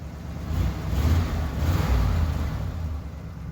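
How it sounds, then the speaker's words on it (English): A 1982 Ford LTD with a 351 Windsor V8, engine still cold, revs a couple of times up from idle; the low engine rumble swells and eases close by, with no talk over it. "I'll give it a couple revs"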